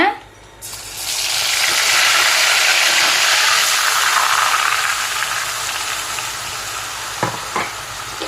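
Ground small-onion paste lands in hot oil and erupts into a loud, close, continuous sizzle after a brief quiet start, easing slightly over time with a couple of faint knocks near the end.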